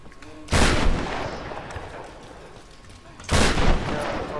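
Two heavy explosions in Tomb Raider: Definitive Edition, each a sudden loud boom with a long rumbling tail, a few seconds apart over quiet game ambience.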